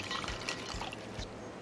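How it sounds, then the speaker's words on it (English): Cooked Korean noodles for spicy bibim guksu rinsed under running water to wash off starch, a steady close splashing and trickling with brief drips, no talk. "So rinse off all the starch that's in it."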